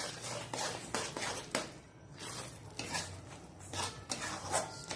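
Roasted, skinned and coarsely crushed peanuts being stirred into hot peanut-and-sesame chikki mixture with the flame off, with repeated scraping and rubbing strokes of a spoon against a pan, near and steady with a brief pause midway.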